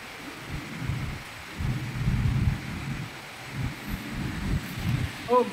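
Heavy rain falls during a downpour in Busan, South Korea. Gusty, rumbling bursts of wind and storm noise swell and fade over a constant background wash, close to the microphone.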